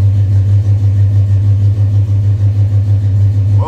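A 1986 Chevy K-10 pickup truck engine runs after a cold start, a loud, steady, close low rumble with a faint pulsing throb and no talking over it.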